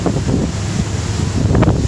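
Twin 200 V6 Mercury outboard engines drive an Eastward 2400 Seaward boat at a steady low idle near 2,000 RPM, a continuous close, loud drone buried under heavy wind rush across the microphone.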